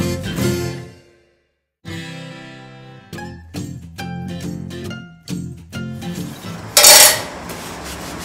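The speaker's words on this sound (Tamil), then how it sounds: "இப்போ எல்லா பாத்திரத்தையும் தேய்ச்சிடுவோம்." Metal kitchen vessels are scrubbed and washed by hand, with clanking pots and pans, scraping and rubbing strokes, clinks of utensils and a splash of running water near the end, all close and without talk.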